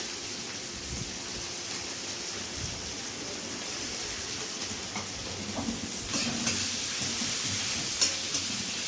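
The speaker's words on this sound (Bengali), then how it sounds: "এই গরম তেলে প্রথমে সেটা কাঁচা লঙ্কা আর পেঁয়াজটাকে দেওয়া হচ্ছে দিয়ে কষিয়ে নেওয়া হবে" Steady sizzling of onions and green chillies frying in hot oil, a continuous hiss with occasional stirring scrapes and a slight rise near the end.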